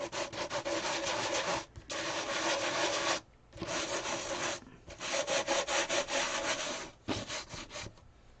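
A surface is sanded by hand in repeated close strokes, each burst of gritty rubbing lasting a second or more with short pauses between, no voices.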